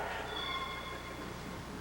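A stage play performer imitates a cat's meow, a single drawn-out call with faint tonal lines, fairly quiet with no talk over it.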